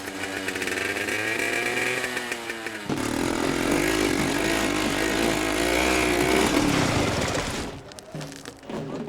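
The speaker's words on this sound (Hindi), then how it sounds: "ये बाइक का है? मुझे तो लगा जैसे कोई ग्राइंडर चल रहा हो।" Loud, harsh motorcycle engine in need of a mechanic, running with a rough grinding roar that swells after a few seconds and holds steady before dropping away near the end, with no voices over it.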